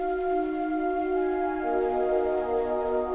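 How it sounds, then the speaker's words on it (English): Ambient synth pad for an old-school smooth plugg beat, holding warm sustained chords that shift partway through, steady and moderately loud with no voice. "First I started off with this little ambient pad."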